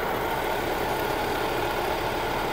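A running car engine with a failing alternator bearing gives a steady, dense whirring hum with a gritty mechanical edge, continuous and fairly close, with no voices.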